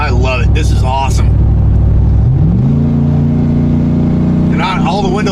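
A car with an MBRP dump exhaust, windows closed, gives a loud, deep, throaty engine drone from inside the cabin that steps up in pitch as it revs, with someone talking over it.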